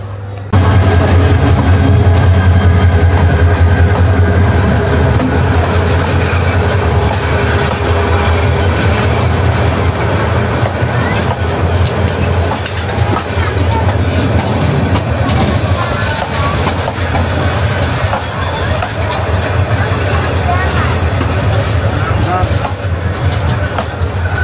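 Jayantika Express train running between Dhaka and Sylhet near Shayestaganj station, a loud, continuous rumble with faint clickety-clack while someone talks over it.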